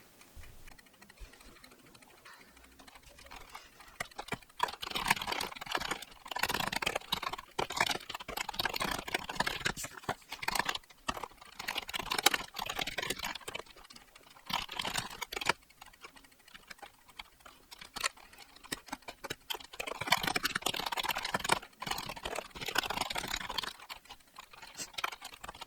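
Fingers type on a computer keyboard, a long run of quick, light key clicks coming in dense bursts with brief pauses between, fairly close but soft, with no talk over it.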